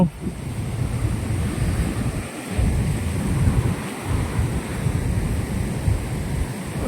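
Floodwater thunders through the gates of the Somasila dam on the Penna river in a constant, loud, low roar with heavy wind buffeting.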